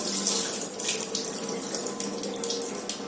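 Rice is rinsed under a running kitchen tap, with water splashing and streaming steadily close by for a few seconds and no voices.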